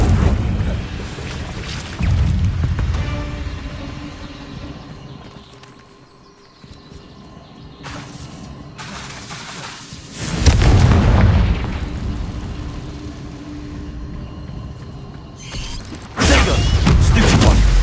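Confringo fire spell explosions in Hogwarts Legacy on PS5, sounding as loud booming blasts that burst out several times over a dense bed of game music and combat effects.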